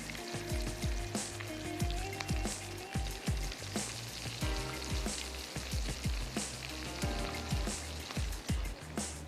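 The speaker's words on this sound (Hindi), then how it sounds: "ये जो हमारे समोसे बनने जा रहे हैं दोनों तरफ से अच्छे से फ्राई होते हैं" Samosas fry in hot oil with a constant bright sizzle, spattered with sharp crackles and pops. The sound is close, fairly quiet and steady throughout, with no voices.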